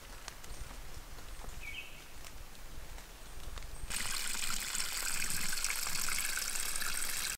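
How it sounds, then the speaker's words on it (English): Water from a hose pouring into a dug deer water hole outdoors, a faint trickle that turns into a louder steady hissing gush partway through and continues to the end. "We'll start filling it up."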